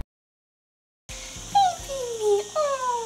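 After a moment of silence, a dog lets out a few high, thin whimpers and whines, close and fairly soft.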